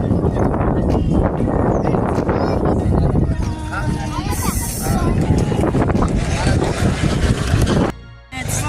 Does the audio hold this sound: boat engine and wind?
yes